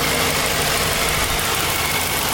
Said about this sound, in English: I started up the engine. I didn't get any codes. It's running nice and smooth.